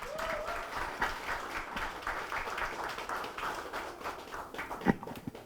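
A crowd at a regional party rally for deputy leader candidates claps steadily to welcome candidate Lee Man-sol, moderate-level applause rolling on for several seconds with scattered louder claps.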